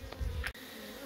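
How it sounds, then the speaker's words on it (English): Bees buzz around a full, heavy, gentle ginger Buckfast colony of ten frames in an autumn heather apiary, a faint close hum with short bursts of wingbeat noise as insects pass by. "Another ginger buckfast colony, 10 frames of bees, absolutely full to the brim"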